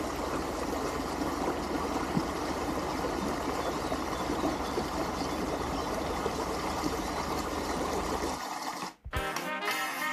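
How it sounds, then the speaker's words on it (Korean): Stream water flows steadily between stepping stones in a reed-lined riverbed on the Seomjin River, a continuous close rushing and trickling that cuts off briefly near the end. "징검다리 사이로 흐르는 물소리가 좋습니다"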